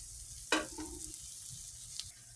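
Spices with turmeric frying in a pan, with one sharp sizzling burst of contact followed by a quieter, fading fry and a faint scrape near the end.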